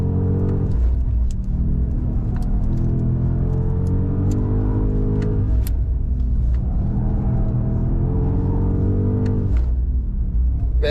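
A BMW M5 accelerates hard on a race track during a hot lap, its loud engine rumble climbing through the revs in repeated surges with brief dips at upshifts, heard from inside the car.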